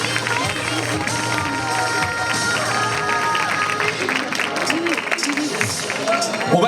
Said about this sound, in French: On peut applaudir cette belle maison